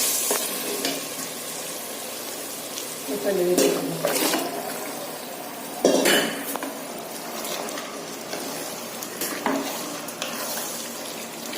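Mutton pieces go into a spiced masala with garam masala for biryani and sauté in the pan, giving a steady sizzle broken by several louder stirring scrapes and bursts, close by.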